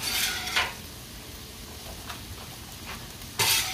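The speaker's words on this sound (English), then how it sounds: "Got all my tater tots inside the pan." Frozen tater tots tumbling into a 13 by 9 baking pan: a soft, close rattling burst, then quieter light taps, and a final brief clatter as more pieces drop in, with no voices.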